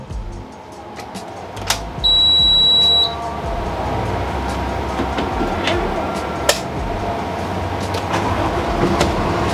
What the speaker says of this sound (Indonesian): Nah, ini udah nyala teman-teman mesinnya